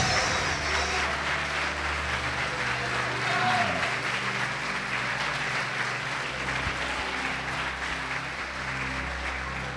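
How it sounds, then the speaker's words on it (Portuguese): Congregation applauding during a church sermon, a broad, steady roar of clapping mixed with crowd noise and a low hum, sustained across the whole stretch without speech. "Pode aplaudir"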